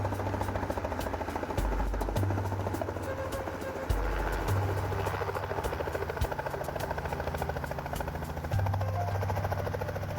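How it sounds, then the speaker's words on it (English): A helicopter engine drones steadily nearby, its rotor thumping in a rapid, even rhythm with a low pulsing hum that swells and settles. "the helicopter finally arrives to pick up the veterinarian"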